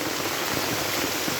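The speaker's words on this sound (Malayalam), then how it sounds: "ഇന്ന് നല്ല മഴയല്ലേ, ഇന്നലെ വൈകുന്നേരം തുടങ്ങിയ മഴ ഗായ്സ്" Heavy rain pours down steadily after falling since the previous evening, a dense, even hiss of drops striking the yard and surfaces, loud and continuous with no voices.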